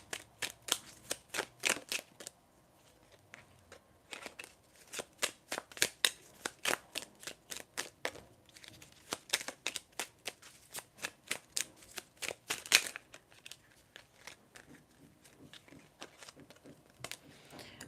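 A deck of oracle cards is shuffled by hand, producing many quick papery riffles and flicks in uneven bursts, close and fairly quiet, with short pauses between rounds.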